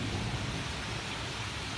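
Heavy rain pours steadily at night during a heavy thunderstorm while a low rumble of thunder rolls underneath, a dense, constant wash of sound with no voices.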